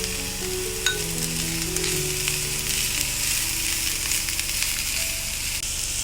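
Capsicum and cabbage stir-fried over a low flame for spring roll filling, giving a steady, close sizzle with soft stirring scrapes throughout and no talking.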